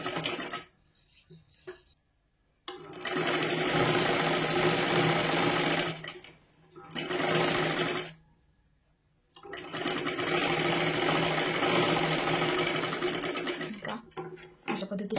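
Domestic sewing machine stitching a princess-style blouse, running in several bursts of steady whirring separated by short pauses, with a voice talking between runs.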